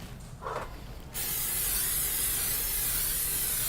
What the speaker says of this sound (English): with a little Pam spray in there